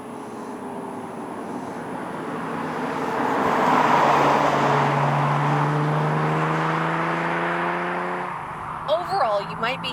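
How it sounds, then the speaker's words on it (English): Steady low roar of tyre and road noise inside a Lexus IS 350 on a rough road, rising and swelling in the middle before easing off, with a voice talking over the drone near the end. "there is so much road noise in this vehicle"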